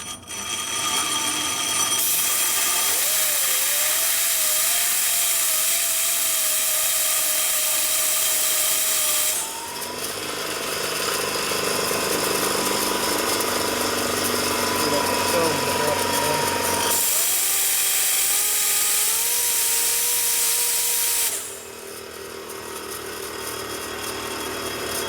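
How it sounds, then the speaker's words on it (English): An aluminum part from a 1961 Harley Sportster XLCH being ground against the side of a grinding wheel, a loud, steady high whine across the clip that swells as contact is made and eases off in between, with no talking. "I'm going to take the side of my grinding wheel and I'm just going to grind this thing over here like that."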